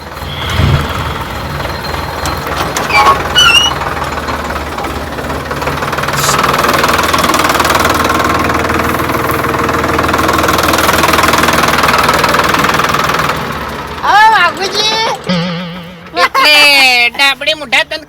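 A tractor engine runs steadily in an open farm field, a low continuous rumble with knocking vibration that holds for most of the stretch, then drops away as people talk near the end.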